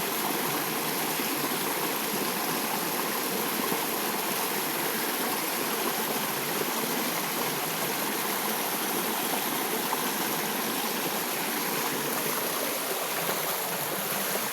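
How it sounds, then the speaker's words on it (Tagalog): Steady rushing of a flowing stream fills the whole stretch, a constant broadband wash of water with no breaks and no voices. "ingay ng agos ng tubig"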